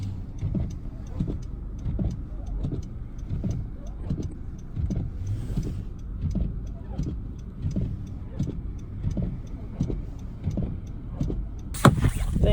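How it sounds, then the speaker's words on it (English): A car running while stuck in a snow storm, its engine and tyres churning in a repeated rhythmic pulse of low rumbling bursts, close and steady, with a sharp louder noise near the end. "This car is not moving."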